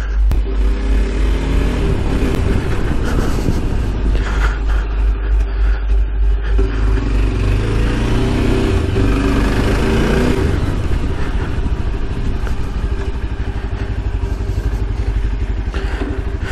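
Loud, continuous motorcycle engine of a Himalayan copy while riding, a rough rumbling drone with rising revs and steady wind noise, close throughout and without talk.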